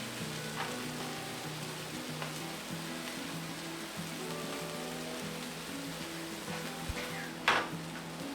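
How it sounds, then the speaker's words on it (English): Thin seasoned pork chops sizzle on a hot Blackstone flat-top griddle, a steady, fairly quiet frying hiss running throughout with a low hum beneath and a brief louder crackle near the end. "Put it down on that hot griddle."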